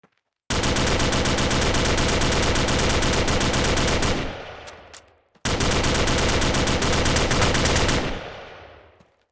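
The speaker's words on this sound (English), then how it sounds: "But you can shoot everything, and the bullet holes stay for like less than a second." Automatic gunfire in the video game DeathMatch strikes buildings and the ground. Two long, loud, unbroken bursts of rapid shots are heard, each cut off with a brief echoing tail, separated by a short pause.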